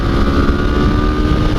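Motorcycle engine held at full throttle near the red line in second gear, powering uphill on the New Hampshire Motor Speedway race track, a loud, steady, continuous roar heard up close.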